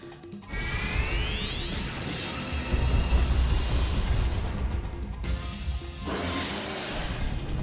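Fire rune attack in Suikoden HD Remaster, a loud sustained fiery blast with rushing crackle and rising whooshes, a sharp cut near the middle, then a second burst of flame that carries on to the end.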